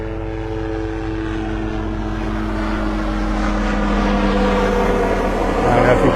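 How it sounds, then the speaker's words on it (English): A helicopter flies past above a beach at Delnor-Wiggins State Park in North Naples, its engine and rotor drone loud and steady, swelling slightly as it nears, with no voices. "Here comes that chopper."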